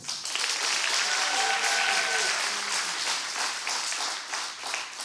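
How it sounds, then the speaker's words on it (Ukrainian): Studio audience applause on a comedy show, a steady wash of many hands clapping for several seconds, loud and even, with faint voices mixed in. "Ваші оплески."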